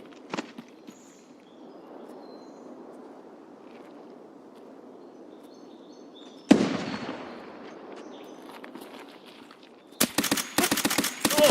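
Gunfire in the video game Escape From Tarkov: a sharp shot cuts through low background noise, followed by a rapid cluster of loud shots near the end.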